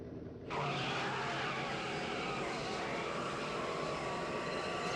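A DeLorean car in the Back to the Future video game accelerating toward 88 mph, a loud dense engine roar that bursts in abruptly and holds steady at full intensity with no talk.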